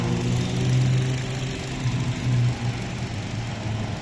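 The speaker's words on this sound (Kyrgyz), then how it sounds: "Мотору четко иштеп турат." A 2016 Kia Rio with a 1.6 engine and manual gearbox idles steadily nearby, a smooth, even low hum with a faint rhythmic pulse and no other sounds.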